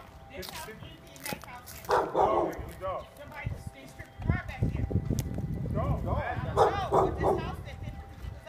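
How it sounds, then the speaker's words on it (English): A dog barks in a residential neighborhood, a few sharp barks scattered between people talking nearby. "the dog is somebody's dog, they just put it back there."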